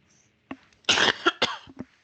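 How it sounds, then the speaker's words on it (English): Several dry coughs and a throat-clearing burst in a quiet classroom during a math lesson, a short single cough first, then a louder cluster of rough coughs, tapering to two small coughs at the end. "now, no coughing in class"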